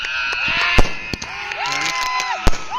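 Several sharp cracking bangs of firecrackers burst at irregular intervals over a noisy crowd celebrating a cricket final win, with shouting and tonal calls in the background.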